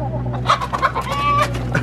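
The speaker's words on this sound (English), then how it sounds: "Alright, so these chickens got out." Chickens cluck repeatedly at close range after escaping their pen, short sharp calls overlapping one another in a busy, continuous stream with no talking.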